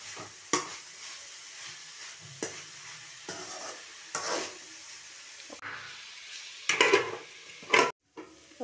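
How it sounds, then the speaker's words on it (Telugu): Chopped tomatoes cook in a pan for a broad bean fry, sizzling steadily while a spoon stirs and scrapes at intervals, with a few sharper clinks of utensil on metal. "ఇప్పుడు కట్ చేసుకున్న టమాటోలు వేద్దామండి. టమాటోలు వేసి ఒక 5 మినిట్స్ ఉడకనిద్దామండి."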